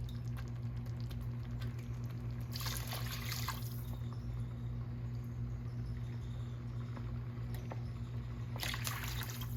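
Water poured into a cooking pot for Mexican rice, a steady trickling pour with two brighter splashy bursts, close and fairly quiet over a constant low kitchen hum, no talking.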